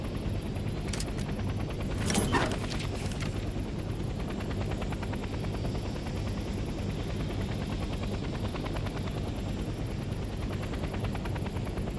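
Helicopter flying in the video game Hell Let Loose: Vietnam, a steady, droning rotor whine with a dense high-pitched buzz throughout and a brief swell near the start, continuous and fairly loud.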